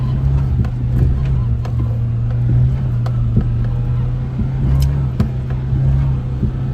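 Mitsubishi Pajero Mini kei SUV driving off-road on a slick rock trail at Sand Hollow, with a loud, steady engine drone close by and occasional knocks and rattles from the body.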